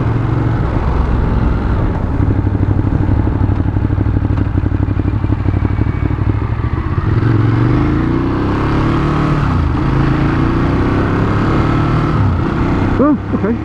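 A Ducati Monster 821 motorcycle engine and exhaust roar continuously while riding, with a loud rumbling drone under wind noise and passing gear changes; no speech is heard.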